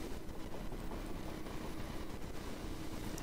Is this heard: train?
yes